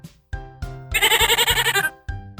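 A goat bleats several times, with one long, wavering, tremulous bleat in the middle framed by shorter calls, close by and clear, with no talking.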